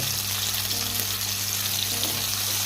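Pirandai stalks sautéing in sunflower oil over a high flame, giving a steady, dense sizzle with a faint low hum, close and continuous with no talk.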